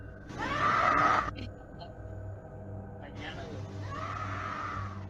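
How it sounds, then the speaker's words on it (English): A woman screams twice outside a nightclub at closing time, a long piercing cry followed by a pause and a second, weaker scream, both loud against a low background hum. "You can hear a woman scream."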